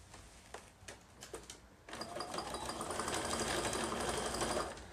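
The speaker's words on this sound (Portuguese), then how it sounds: "E vou passar umas 3 costurinhas ou mais, segurando o elástico já no lugar dele" A sewing machine stitching elastic onto a fabric notebook cover: a few scattered clicks and taps first, then a steady, fast mechanical rattle of stitching for the last three seconds before it stops.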